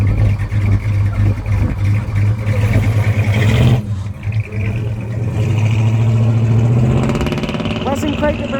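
A Dodge Charger at a car show revs hard during a burnout attempt, a loud throaty engine roar that drops off briefly then climbs again in pitch, with people talking nearby.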